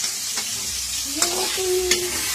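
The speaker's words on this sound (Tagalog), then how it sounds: "Nagluluto na si Omar ng itlog na may kamatis at sibuyas." Egg with tomato and onion frying in a pan: a continuous sizzle with occasional stirring scrapes and brief tonal squeaks, close by and fairly loud.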